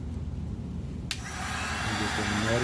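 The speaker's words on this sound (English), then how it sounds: "Let me plug my heat gun up here." A heat gun is switched on partway through and settles into a rising, steady blowing roar close by. Before that there is a quieter low rumble, with some faint talk in the background.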